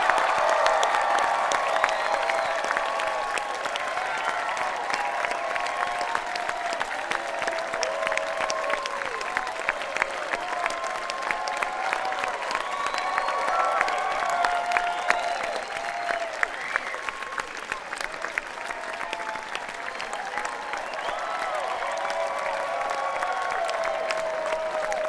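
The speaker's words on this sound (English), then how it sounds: "now we need some applause" Sustained applause from a concert audience at a show in Burbank, a dense wash of clapping with scattered cheers that holds steady throughout, heard from within the crowd.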